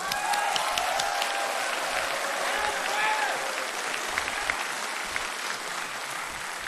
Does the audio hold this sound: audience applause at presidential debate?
yes